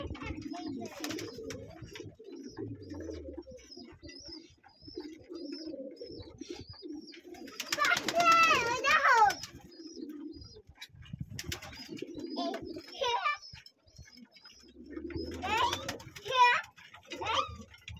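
Pigeons coo and flutter in a loft, with soft calls coming in bursts; a child and an adult talk over them throughout.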